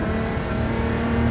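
A steady, loud racing-car engine in fourth gear in the video game Gran Turismo 7 drones at a sustained pitch with a gritty buzz, close and continuous, no voices.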